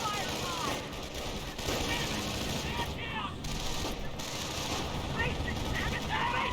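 Dense gunfire from the World War II strategy game Company of Heroes, with continuous volleys of rifle and machine-gun fire and a few heavier blasts filling the whole stretch, while a commentator talks over the battle.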